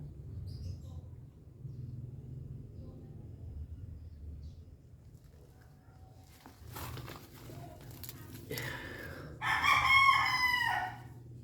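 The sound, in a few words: sweater gamefowl rooster crowing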